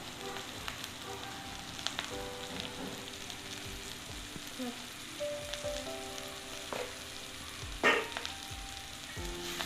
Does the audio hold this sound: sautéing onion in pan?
yes